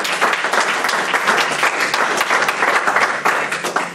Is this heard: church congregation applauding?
yes